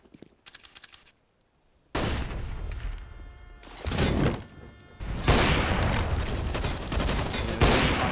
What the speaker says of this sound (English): Firing so many bullets in his direction